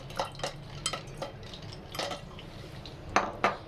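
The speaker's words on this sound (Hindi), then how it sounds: "अब इसके अंदर हम डालेंगे बर्फ़। इस तरह हमने इसके अंदर क्यूब्स डाल देने" Ice cubes drop into a sharbat drink, producing a series of sharp, separate clinks and knocks against the container over a quiet background, with no talking.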